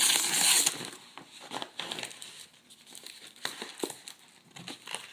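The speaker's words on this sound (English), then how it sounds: "So what we do, we just rip it open." Breakfast package from a Swedish military dehydrated ration, mixed flakes with fruit, ripped open: a loud crinkling tear at first, then scattered softer crackles and rustles of the plastic wrapper, close by.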